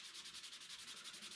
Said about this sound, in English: And you just want to keep sanding it.